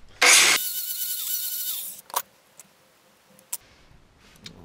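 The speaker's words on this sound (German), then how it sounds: "Oder einfach mit der Flex." A loud, harsh burst of angle-grinder cutting for about two seconds, then a few short clicks and taps in near silence.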